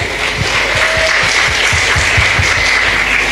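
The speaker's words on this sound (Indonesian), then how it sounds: "Tepuk tangan untuk NU" A crowd at an Indonesian religious gathering bursts into loud, close applause, with a rhythmic pulse of heavier claps running through the dense clatter for a few seconds.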